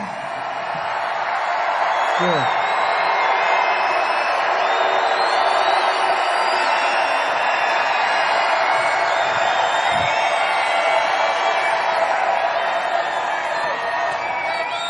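A large crowd at a political town hall rally in Denver, Colorado roars and cheers continuously, a dense, loud wash of voices and whoops heard from within the arena, with a speaker's voice briefly over it.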